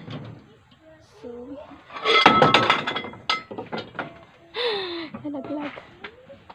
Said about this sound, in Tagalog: Nalaglag yung kaldero.